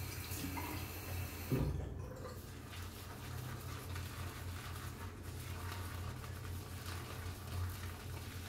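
Tap water running steadily into a sink while a shave is being prepared, a soft continuous splash close by with a brief knock partway through.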